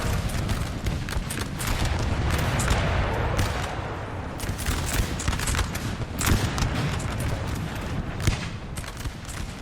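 Dense musket volleys and booming artillery from howitzers in a Napoleon: Total War battle near a small Flanders town, with rapid overlapping shots, crackling fusillades and heavy thuds going on continuously at mixed distances.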